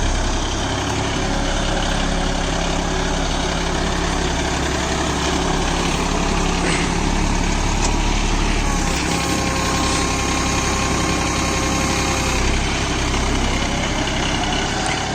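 A John Deere 5310 4WD tractor pulling a Lemken Opal 90 plough gives off a loud, steady diesel drone. The low rumble holds unbroken for the whole stretch, with no voices.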